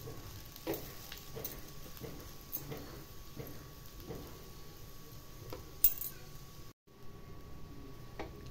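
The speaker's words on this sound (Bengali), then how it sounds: "সব কিছু দিয়ে ভালোভাবে নাড়াচাড়া করতে থাকবো, একদম ঝুরঝুরে হবে তাহলে।" Semolina with a little sugar is stirred in a hot kadai, making soft, regular scraping ticks of a spoon against the pan roughly every second over a faint background sizzle, quiet and close.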